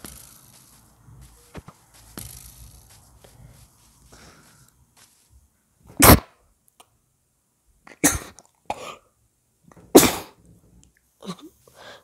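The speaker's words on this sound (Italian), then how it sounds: "Momento starnuto." Several sharp sneezes burst out loudly and close, spaced apart over a quiet background of soft room noise, with no talking between them.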